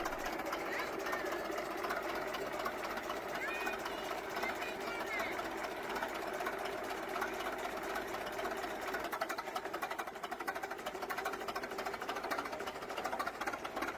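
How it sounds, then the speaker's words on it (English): A Cat 60 crawler tractor engine runs slowly and steadily below normal speed, its carburetor needing adjustment, giving a continuous close rhythmic chugging throughout with speech over it. "The slow, steady rhythm of the engine, even running below normal speed due to a carburetor in need of adjustment"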